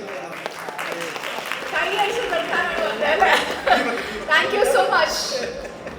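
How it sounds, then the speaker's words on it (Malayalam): An audience at a gathering breaks into clapping that swells and continues, mixed with chatter and light chuckles, while people talk throughout. "ഒന്ന് കൈയടിച്ചു"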